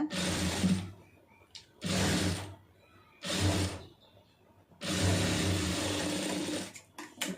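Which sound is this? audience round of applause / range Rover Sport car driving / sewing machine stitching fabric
sewing machine stitching fabric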